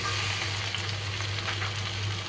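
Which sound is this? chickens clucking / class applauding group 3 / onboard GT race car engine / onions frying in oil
onions frying in oil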